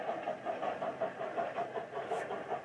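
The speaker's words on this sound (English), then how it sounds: "Oh, I hear an engine coming." A toy-train engine heard faint and steady with a rhythmic pulsing chug, low and muffled as it draws nearer.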